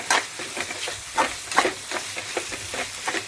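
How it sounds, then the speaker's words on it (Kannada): Cooked ridge gourd with a quarter spoon of turmeric stirred in a hot pan, a close, gently sizzling fry broken by a rhythmic series of spoon scrapes and clicks. "ಈಗ 1/4 ಸ್ಪೂನು ಅರಿಶಿನ ಹಾಕ್ಕೊಂಡು 1-2 ಸಲ ಈ ಥರ ತಿರ್ಗಿಸ್ಕೊಂಡು"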